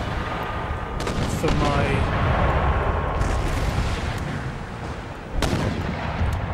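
Artillery barrage in Empire Total War, cannons firing on an enemy general's bodyguard, a dense continuous rumble of booms and crackling shots with a few sharper reports, someone talking briefly over it.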